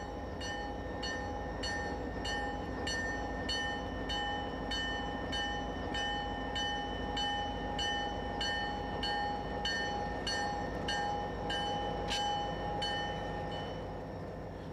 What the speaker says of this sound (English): These 2 SD40s are leaving with a stack train, heading to the twin cities of Minneapolis and St. Paul over former Milwaukee Road trackage.